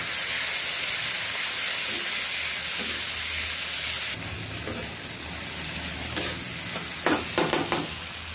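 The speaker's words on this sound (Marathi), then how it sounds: "आता टोमॅटो घालणार आहे आणि भाजून घ्यायचं। छान परतून घ्यायचं आहे।" Tomatoes sauté in a hot pan for a spicy jowar-flour sevai dish, with a loud, even sizzle that suddenly drops to a quieter hiss midway, followed by a few sharp stirring scrapes near the end.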